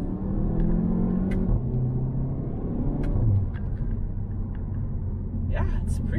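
A VW Golf 7 GTI pulls hard under acceleration, its engine note rising in pitch as a deep in-cabin rumble with tire and road noise, with a couple of brief clicks.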